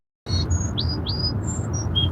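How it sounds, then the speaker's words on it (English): Song sparrow song from a played recording, a quick series of about seven clear high whistled notes and slurred chirps, fairly close over a low background hiss, with no talking. "do you prefer this song sparrow?"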